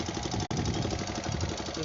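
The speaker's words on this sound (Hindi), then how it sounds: "यामा 4 स्ट्रोक," A Yamaha four-stroke motorcycle engine idles steadily and close by, a dense continuous rumble with one very brief dropout near the start and no talk over it.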